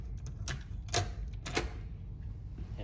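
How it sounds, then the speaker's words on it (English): Audio cassette tape pushed into a tape player in a library archive room, a few distinct clicks and clacks of plastic against the mechanism over a steady low hum. "Put the tape in."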